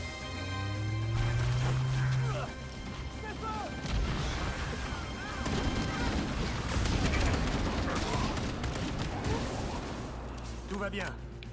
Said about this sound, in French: Trop d'explosions là.